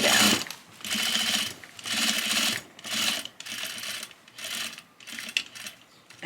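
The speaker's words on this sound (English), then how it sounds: "We're gonna just stitch across the bottom." A sewing machine stitches a boning channel on a corset made from men's neckties, running in short, uneven bursts of rapid stitching with brief stops between them, close and loud.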